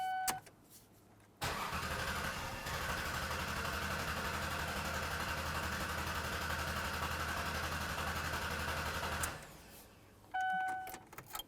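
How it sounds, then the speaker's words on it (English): A 2000-2007 Ford Taurus 3.0L V6 cranks over with a steady whirring starter drone lasting several seconds before cutting off, preceded and followed by quiet, faint electrical tones. "now you're going to crank over the vehicle"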